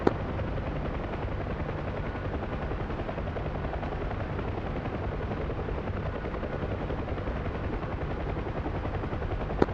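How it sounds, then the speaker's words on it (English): Military helicopter in the DCS flight game making a gun run along a road, its steady rotor drone loud and close with bursts of rapid cannon fire mixed into the continuous roar. "Kingpin, I'm going to do a gun run at the end of this road"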